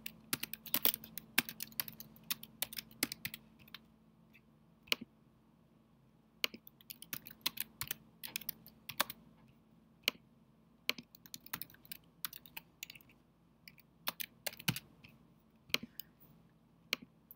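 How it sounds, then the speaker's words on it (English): Close, steady typing on a computer keyboard: irregular bursts of crisp key clicks with short pauses between runs, alone in a quiet room. "I'm gonna go ahead and type that here."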